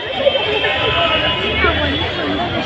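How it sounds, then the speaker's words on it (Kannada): A dense crowd mills about at the Basavanagudi groundnut fair in Bengaluru, a steady hubbub of overlapping voices and footsteps close around the listener, with no single voice standing out. "ಏನು ಸಖತ್ ಕ್ರೌಡ್ ಐತೆ ಬಿಡಪ್ಪ"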